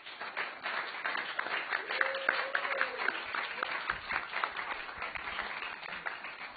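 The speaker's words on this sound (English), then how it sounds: "another round of applause." An audience at a community grantee seminar applauds in a steady, dense wash of clapping that holds at an even level for several seconds with no break.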